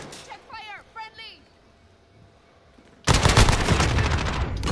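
Rapid automatic gunfire in Call of Duty Modern Warfare Hardpoint mode erupts suddenly and loudly after a quieter stretch of voices and game sounds, continuing as a dense burst to the end.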